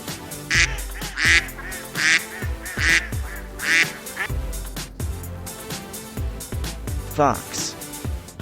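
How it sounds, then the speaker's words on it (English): A duck quacks loudly in a steady series of nasal calls, about one per second, close up, with a honk-like call near the end. "Duck."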